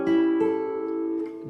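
A7 four-note chord strummed on guitar in a turnaround, a single strum at the start, a lighter second stroke near half a second, then sustained ringing strings close and clear with no talking.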